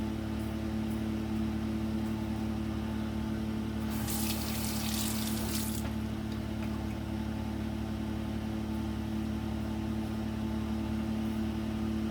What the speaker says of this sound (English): finish rinsing your razor, rinse out your shave cup